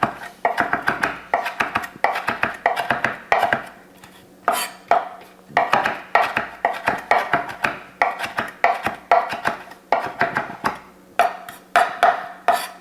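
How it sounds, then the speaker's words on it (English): A knife chops fresh dill, stripped from its stems, on a cutting board, giving steady rapid rhythmic taps in clustered bursts with brief pauses, close and clear with no talking. "we're just going to give it a nice little chop"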